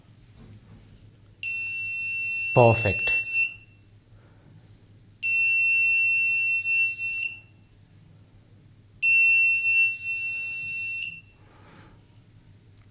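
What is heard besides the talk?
buzzer driven by an Arduino IR sensor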